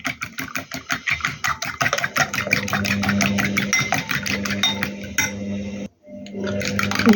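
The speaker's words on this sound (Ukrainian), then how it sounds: "І гарненько вілочкою зіб'ю." Egg and mayonnaise beaten with a fork in a bowl, a fast rhythmic series of clicking taps against the dish that quickens into a continuous rapid whisking, close up, with a brief pause near the end before it resumes.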